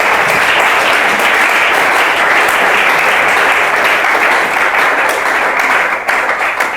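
A church congregation bursts into sustained applause, a dense, loud wash of many hands clapping evenly throughout, with faint voices mixed in and a slight dip near the end.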